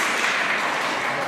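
Steady applause at a Hungarian art exhibition opening, a dense, even patter of many hands clapping without pause.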